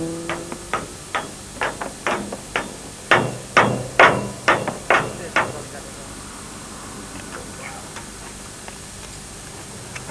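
Metallic hammer blows strike a damaged BMW rally car's rear wheel hub during the 2006 Dakar Rally in a quick series of about a dozen sharp hits, then stop, leaving quiet background.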